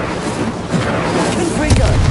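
Confringo fire spells burst repeatedly in the video game Hogwarts Legacy, producing loud, crackling explosive blasts one after another over a dense background of game noise and effects, with a spoken voice mixed in.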